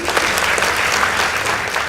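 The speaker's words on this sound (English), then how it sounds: "Kindly give them a round of applause" Audience applause for a secondary school debate team, dense and loud continuous clapping filling the hall from start to finish.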